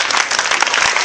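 A church congregation at a night vigil applauds loudly, a thick continuous burst of clapping close and full throughout.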